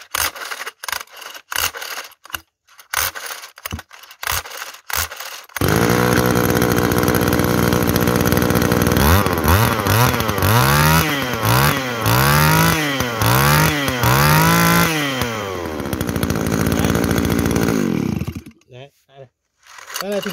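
A used Japanese grass cutter with a small two-stroke engine starts after a series of pull-cord tugs, then runs loudly and close, its pitch rising and falling repeatedly as the throttle is revved before it cuts out.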